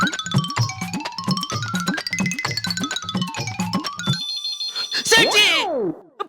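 A telephone rings over a landline in a shop, a repeated electronic ringtone pattern of quick tones, followed by a burst of cartoonish sound effects with a falling boing, over busy background with talk in Hindi.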